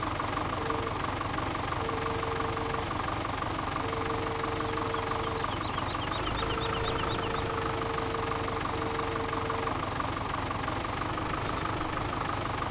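Tractor engine in the farming game Landwirtschafts-Simulator 17, a steady, close mid-pitched idling drone with a faint knocking pulse and periodic beeping tones above it, running unbroken throughout.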